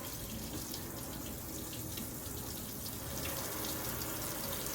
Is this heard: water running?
yes